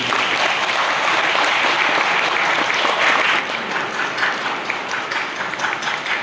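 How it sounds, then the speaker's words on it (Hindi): A church congregation at a Christmas Holy Mass applauds in a large hall, a thick, continuous wash of many hands clapping at a steady loud level throughout, easing slightly toward the end. "धन्यवाद इनके लिए तालियों की।"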